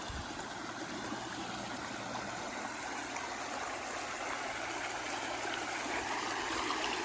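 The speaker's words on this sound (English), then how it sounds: "they get their drinking water, community drinking water, from this little creek here" A small creek that supplies a community's drinking water runs beside the McCarthy Road in Alaska's Wrangell-St. Elias National Park. It makes a steady, continuous rush of flowing water, fairly close and unbroken for the whole stretch.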